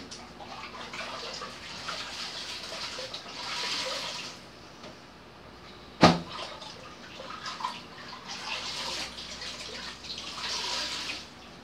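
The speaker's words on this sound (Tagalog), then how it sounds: "Laba-laba ng aking damit." Water sloshes and splashes steadily, with a sharp knock midway through, like clothes being scrubbed and swished by hand in a basin.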